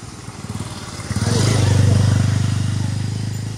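A motorcycle with its headlight on passes by in daylight, its engine drone swelling louder as it nears and then holding a steady, throbbing putter close by.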